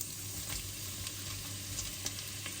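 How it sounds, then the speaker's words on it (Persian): Onion sizzling and frying in a pot for a traditional Persian fava bean rice dish with lamb shank, a steady broadband hiss with soft stirring crackles, close and continuous with no talk. "خب الان بهش یه مقدار از پیازی که داشتیم رو اضافه میکنیم"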